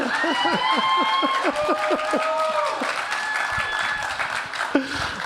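Steady audience applause fills the room at a live event in Vancouver, with a voice speaking over it throughout.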